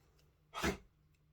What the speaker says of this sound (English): Now she's sneezing.